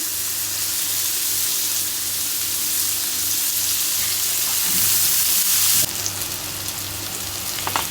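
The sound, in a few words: pumpkin and onion frying in a pan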